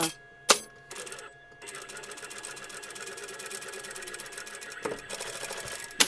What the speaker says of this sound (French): Vous allez ensuite faire une petite couture de sécurité, hein, pour maintenir tout ça en place.